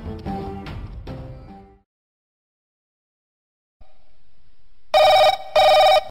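A telephone call to the electricity board sounds in a Telugu short film: a tonal ringing burst at the start, a silent gap, then two loud, sharp electronic ring pulses close together at the end.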